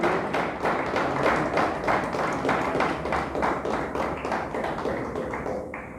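A church congregation claps together during a service, a dense, steady run of hand claps that fills the room at even loudness and stops abruptly near the end.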